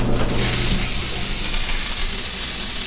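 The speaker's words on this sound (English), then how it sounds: "that's sizzling, smelling good" Steady, loud sizzling of roast beef in a hot pan, a constant crackling hiss with no talking.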